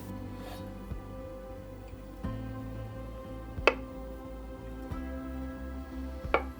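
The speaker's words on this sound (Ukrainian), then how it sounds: "Нарізаю картоплю шматочками приблизно пів сантиметра." Soft scraping and a few sharp knocks of a knife cutting potatoes into half-centimetre pieces on a board, close and quiet, with low background hum.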